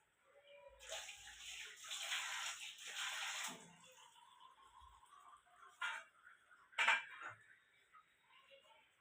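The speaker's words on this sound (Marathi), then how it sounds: "आता ह्याच्यात पण पाणी टाकायचं." Water is poured into a kitchen container with a soft rushing splash, followed by a few quieter clinks of utensils and a brief splash, all faint and close.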